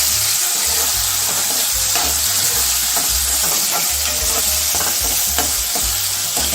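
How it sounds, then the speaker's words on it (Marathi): Tomato, ginger, garlic and green chili sauté in a pan for a prawn masala, a loud, dense, steady sizzle with scattered stirring scrapes over a constant low hum, close up. "टोमॅटो टाकते, आलं, लसूण, आलं आणि मिरची छान परतून घेते."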